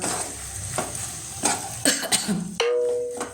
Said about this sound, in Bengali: লবণ দিয়ে ভালো করে আর একটু কষে নিচ্ছি